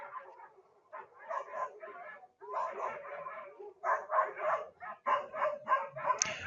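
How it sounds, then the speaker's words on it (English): Dogs bark and yip repeatedly in the background, picked up through a Yealink MP45 USB phone headset with maximum noise suppression, coming through as a muffled, bursty series of barks at moderate level. "this is what it sounds like with barking dogs going on in the background"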